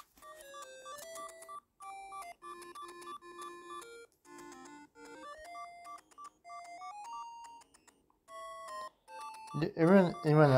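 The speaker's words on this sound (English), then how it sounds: "Anyone else hearing a beeping sound, or is it just me?" A series of electronic beeps and tones from a Zelda video game plays in quick melodic patterns, followed by a short burst of speech-like sound at the end.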